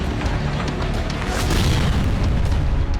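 A loud bomb explosion rumbles, swelling midway into a deep, sustained roar with crackle, no voices.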